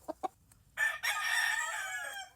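A gamefowl rooster crows loudly and drawn out after two short clucks, with no one talking.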